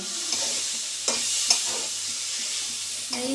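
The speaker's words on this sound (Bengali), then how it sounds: "এই দেখো আমি আমাদের জন্য ডাল রান্না করতেছে" Dal (lentils) cooking in a pot on a home stove, giving a steady close sizzle with faint stirring scrapes and small clinks throughout, no talk.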